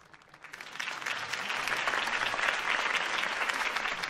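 Steady crowd applause after a campaign speech in an animated Batman movie rises quickly from a faint start into a dense, sustained wash of clapping hands that holds at an even level throughout.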